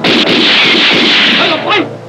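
A loud gunshot from a Thai action film, a sharp blast followed by a sustained ringing, echoing tail that fades out over about two seconds.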